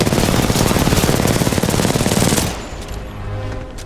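A robot in the video game Titanfall 2 fires a loud, rapid machine-gun burst for about two and a half seconds, dense and continuous, before it cuts off into a quieter rumble.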